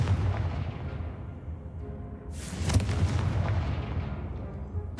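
A Confringo fire spell fires in Hogwarts Legacy, a sharp fiery blast bursting out midway over a constant rumbling game soundscape, loud and close with no talking.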